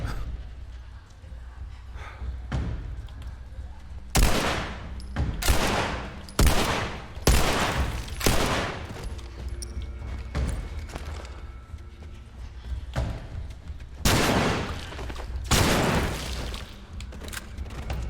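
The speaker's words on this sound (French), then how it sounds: "il y a un couloir et on vide nos balles" Bursts of gunfire in The Last of Us, fired down a corridor: several loud, broadband volleys spaced a second or two apart, with a quieter stretch mid-clip before two more heavy bursts.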